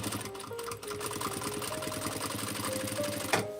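A sewing machine stitches quilt blocks together in a steady, fast mechanical whir that lasts for several seconds. A short click near the end interrupts the even running rhythm.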